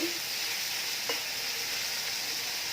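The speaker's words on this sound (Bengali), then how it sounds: "শুকিয়ে একটু ভেজে নিব পেঁয়াজের সাথে" Dried fish fries with onions in a pan, a steady hissing sizzle close by with one brief clink, and no speech.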